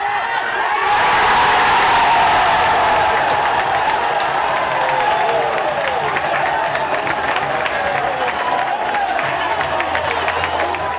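A football stadium crowd in Oliveira, Marabá roaring and cheering after a goal, with a dense, loud wash of shouts, whoops and clapping that stays strong throughout.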